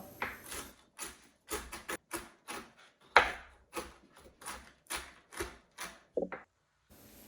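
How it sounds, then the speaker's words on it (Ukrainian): Walnuts being chopped with a knife on a board as stollen dough is prepared: a steady run of crisp, sharp cuts, close and distinct, with brief pauses and no talk. "В мене волоський, його потрібно трішки подрібнити, але не мілко"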